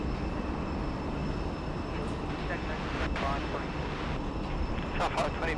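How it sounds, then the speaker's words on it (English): Velocity Boeing 737-800 taxiing at Sydney Airport, a broad, steady engine rumble and roar heard from a distance, with occasional brief higher tones over it. "Velocity 737-800 joining us, taxiing down Bravo."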